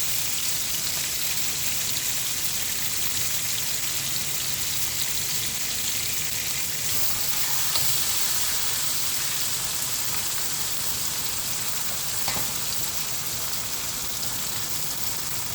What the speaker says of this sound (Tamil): இப்போ நாம் அடுத்த ஃபிஷ்ஷையும் ஃப்ரை பண்ணிடலாம்.